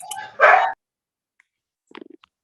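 A dog gives one short, loud bark near the start, then a few faint yips and small sounds follow after a pause, in an indoor room.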